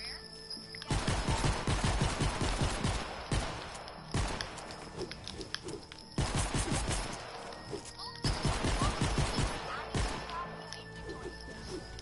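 Video game gunfire comes in repeated rapid bursts of loud automatic shots separated by short pauses, with voices talking over the shooting.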